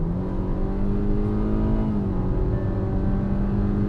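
A Hyundai Creta petrol with a CVT accelerating in sport mode, a steady engine drone with a sustained tone that dips briefly and then climbs again, heard from inside without talk.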